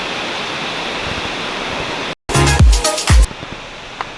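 Shower Falls in Bongcao, Pili, Camarines Sur roars as a steady, dense rush of falling water, then cuts abruptly to a few close, muffled thumps and bumps.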